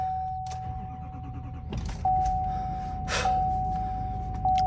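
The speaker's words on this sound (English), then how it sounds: "Power mirrors." A pickup truck's power mirror motors whir in short electric bursts, several distinct buzzing runs starting and stopping up close, with a breathy gasp near the start and no talking.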